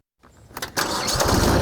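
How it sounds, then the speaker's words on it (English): A farm tractor engine starts up and settles into a steady, loud, close running rumble while the machine spreads manure across a field before spring planting. "Sean Kane is hard at work on the tractor, spreading manure, getting his field ready."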